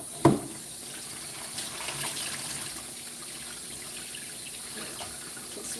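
Water running steadily from a tap or sprayer while rinsing a dog during grooming, a continuous gushing hiss that opens with a brief knock and stays at an even level throughout.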